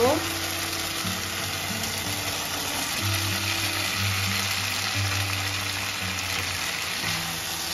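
Steady, dense sizzling of pointed gourd frying in hot oil, loud and close, with a low tonal hum running underneath throughout.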